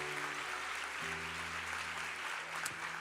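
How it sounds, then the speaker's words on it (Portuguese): A church congregation applauds in praise during a Portuguese-language service, a steady wash of many hands clapping at once over a low sustained hum, with no voices standing out. "Dá um aplauso ao Senhor"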